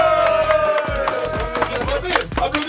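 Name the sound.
audience applauding and cheering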